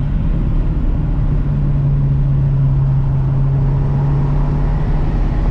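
Steady mid-pitched engine drone from a 1994 Toyota Celica GT-Four on the move, a constant hum with a sustained low tone running evenly through the drive, with no talking.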